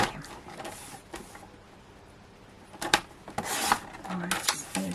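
A paper trimmer slices through craft paper in short scraping, rasping strokes, quiet at first and then louder in bursts near the end, set against a calm room.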